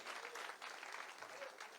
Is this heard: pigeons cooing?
no